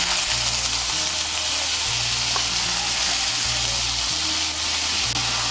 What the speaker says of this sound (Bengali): এই তেলের মধ্যে আমি মোচাটা ভেজে নেব।